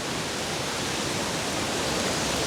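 White-water river rapids rush near a waterfall, a dense, unbroken roar of churning water that stays loud and steady throughout with no voices.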